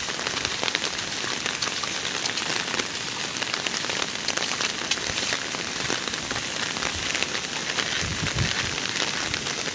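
Heavy monsoon rain in a Konkan village falls steadily and densely, a continuous hiss of drops on surfaces at even loudness with no pauses and no voices.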